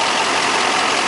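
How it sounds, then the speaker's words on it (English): A Duramax diesel engine idles steadily in a 2008 Champion Challenger bus, a constant, fairly loud broadband hum and rumble with no talking. "Listen at that Duramax engine"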